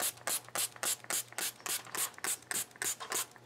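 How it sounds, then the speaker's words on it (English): Rapid, rhythmic hissing bursts from a pump spray bottle spraying alcohol onto paper, about a dozen quick squirts in a steady pattern, close and fairly quiet, with a faint hum underneath. "saturate the paper with alcohol spray"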